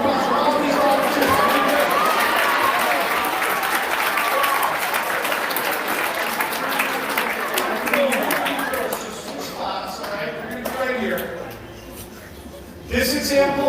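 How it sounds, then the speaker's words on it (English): A school assembly audience applauding volunteers, loud sustained clapping from a large crowd that fades after about nine seconds as voices and chatter take over. "Round of applause for all these volunteers."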